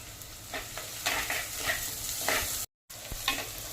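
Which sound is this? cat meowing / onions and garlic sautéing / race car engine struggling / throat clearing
onions and garlic sautéing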